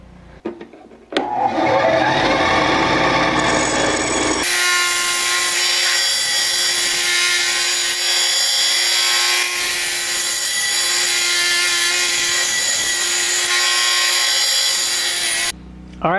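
Power tool biting into a coconut shell to make the first cut for a handmade crankbait fishing lure, a loud, steady high-pitched grinding whine after a brief start, running continuously before stopping abruptly.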